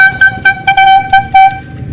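A homemade horn built from a fire extinguisher blasts a rapid series of about six short, loud, close honks with a bright, buzzing tone.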